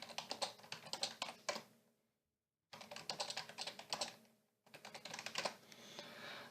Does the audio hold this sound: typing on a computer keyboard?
yes